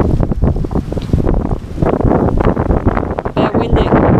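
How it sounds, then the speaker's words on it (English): Heavy wind buffets the microphone in rough, low rumbling gusts that rise and fall continuously. "Bit windy."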